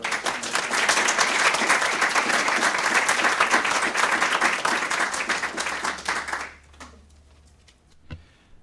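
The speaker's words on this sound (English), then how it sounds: "may I interject my trademark thunderous round of applause?" A round of applause at a public school board meeting, dense steady clapping from the room for about six seconds that stops abruptly, leaving quiet room tone with a single faint knock near the end.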